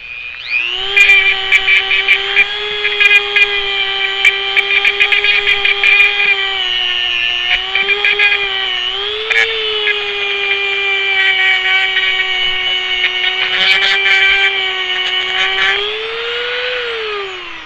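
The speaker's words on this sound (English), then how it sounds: "A little bit of Dremel work on here." Dremel rotary tool grinding on a hydraulic ram part from a Case 580 backhoe, a steady high-pitched whine held for about sixteen seconds, pitch dipping briefly under load before winding down at the end.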